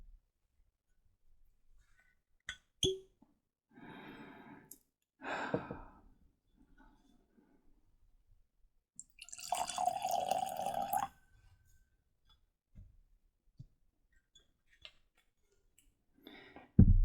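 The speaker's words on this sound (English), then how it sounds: "Let's pour a dram." A dram of Isle of Raasay Batch 1 single malt Scotch whisky, 46.4% ABV, is poured into a glass: a quiet liquid stream amid faint clinks and handling noises in a silent room.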